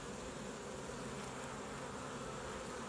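A steady, dense buzzing of many honey bees around a hive, continuous and close, with no pauses or voices.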